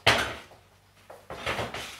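A frying pan, for pan-frying vegetables, is set down on a stove with a sharp metallic knock, followed by softer clanks and shuffling kitchen handling sounds nearby.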